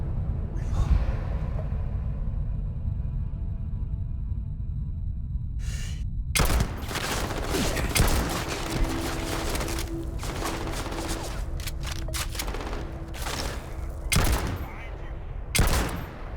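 Bursts of gunfire in Starfield, scattered sharp shots and rapid volleys after a quieter rumbling lead-in, with gasps and breathy vocal sounds mixed among the loud, close reports.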